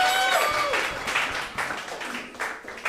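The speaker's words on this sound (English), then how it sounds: "give her a round of applause" Audience applause fills a comedy roast battle in New York City, a steady wash of clapping and crowd noise that swells and dips over three seconds with some voices mixed in.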